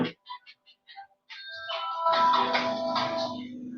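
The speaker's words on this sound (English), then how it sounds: "Give me a sec, I'm gonna answer the phone. I'll be back." A phone ringtone plays as an incoming call arrives, starting with a few short separate tones and then swelling into a louder, sustained melodic ring that carries on to the end.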